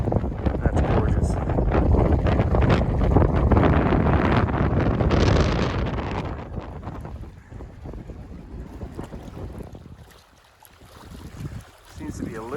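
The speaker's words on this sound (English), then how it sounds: "it's a very, very windy spot" Strong wind on a mountain hiking trail by a lake roars and buffets the microphone for several seconds, then eases into a gustier, quieter rush with brief lulls.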